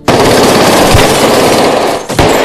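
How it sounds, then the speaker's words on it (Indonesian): A loud, rapid burst of automatic gunfire rattles nonstop for about two seconds, briefly pausing before a few more shots. "sehingga terjadilah baku tembak seru."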